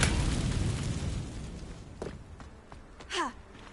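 In Hogwarts Legacy, the Incendio fire spell goes off as a loud rushing whoosh of flame that fades over two seconds, followed by a few thuds and a short rising magical swish.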